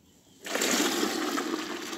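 Water poured into a bucket holding about fourteen litres, with washing-up liquid added, while lining a GAA pitch: after a brief quiet start, a loud, steady rushing gush begins and keeps splashing without a break to the end.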